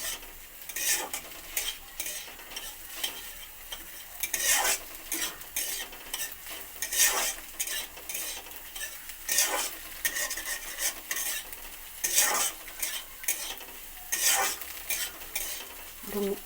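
Egg bhujia with yardlong beans and potato fries in a pan while a spatula stirs it, steady sizzling broken by repeated louder scraping strokes against the metal, close and continuous with no talk.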